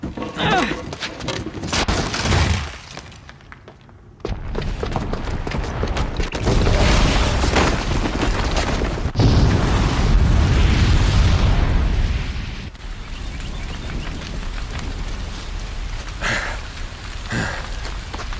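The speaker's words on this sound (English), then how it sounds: "the booby trap on the bomb downstairs is gonna get set off" A booby-trapped bomb goes off downstairs in Horizon Zero Dawn's city of Meridian: loud, rumbling blasts and crackling debris build into a sustained roar, then ease into scattered bursts and settling noise.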